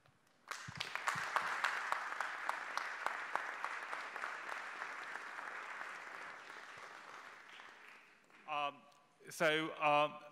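A conference crowd applauds for several seconds, the clapping swelling and then fading, before a voice begins speaking.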